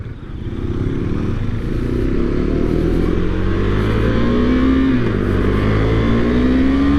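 A 2023 KTM 390 Duke motorcycle pulls hard in second gear, its engine note rising steadily and loudly as it accelerates close to the rider, with no talk over it.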